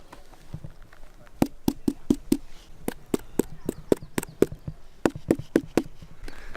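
Sharp hollow knocks on thick tree bark, struck repeatedly in quick bursts of three to five, each hit crisp and slightly resonant with a slight echo, close by with no talking. Giant sequoia grove, Mariposa Grove, Yosemite.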